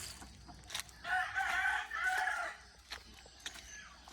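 Chickens on a farm, being dewormed, give a burst of clucking and crowing-like calls in the middle, with quieter scattered clucks and farmyard noise around it.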